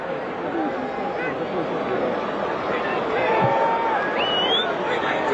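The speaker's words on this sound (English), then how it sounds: "Very enthusiastic crowd tonight" An enthusiastic crowd at a 1983 football stadium between the Michigan Panthers and Birmingham Stallions makes a constant roar with scattered whistles and shouts, growing a little louder toward the end.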